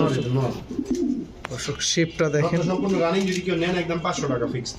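Pigeons cooing nearby in a steady run of low, throaty calls at a pigeon sale, mixed with a person talking over them.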